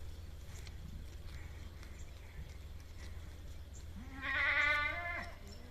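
A goat gives a single wavering bleat near the end, close by, against steady outdoor farm background noise.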